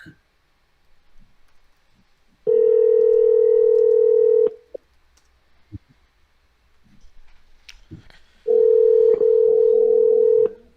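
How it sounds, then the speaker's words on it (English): Ringback tone of an unanswered outgoing phone call, two steady two-second rings separated by a long silent gap with a few faint clicks and ticks, heard clearly and alone. "Come on, answer the phone."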